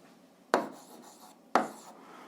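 A pen writes down a math solution in two short, quiet scratching strokes about a second apart, close up in a quiet room with no talking.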